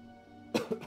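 Two quick coughs from a man who is under the weather, the first a sharp throaty burst and the second softer, close to the microphone over faint steady background hum.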